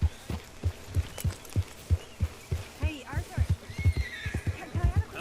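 Horse in the Red Dead Redemption 2 video game, steady hoofbeats with a whinny near the middle and end, all under a person speaking over the game.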